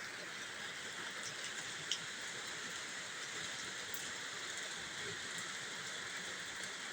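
Heavy rain pours down on an early, still-dark morning as a street floods outside a home, a dense, unbroken hiss with faint scattered patters and no talking.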